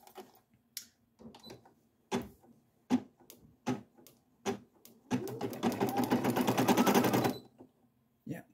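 A Brother SE1900 home embroidery machine stitches a design with short rapid bursts of clattering needle strikes, then a sustained fast mechanical rattle lasting a couple of seconds, close and moderately loud in a quiet room.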